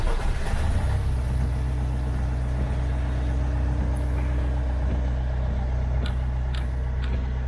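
Renault Trafic campervan engine idling steadily, a constant low diesel drone throughout with no talk.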